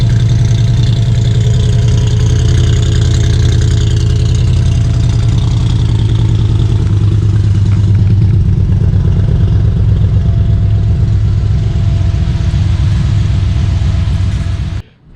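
Factory Five Cobra kit car built in 2006 with side exhaust pipes idles loud and close, a deep, steady, throbbing burble that holds for about fifteen seconds before cutting off abruptly.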